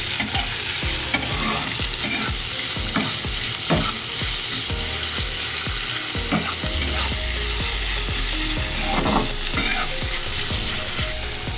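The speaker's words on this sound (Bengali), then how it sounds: "এবার আমি পেঁয়াজটাকে ভালো করে ভেজে নেব, লাল লাল করে।" Chopped onions frying in oil over a medium flame until reddish-brown for chicken biryani, a steady dense sizzle with frequent scraping stir strokes of a spatula against the pan throughout, close and continuous with no talking.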